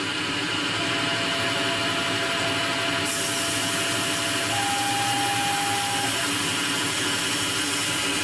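A Tormach lathe spindle runs steadily while machining titanium LBS screws, a constant broadband machine whir with a faint steady whine and a brief higher tone partway through, close and continuous without talk.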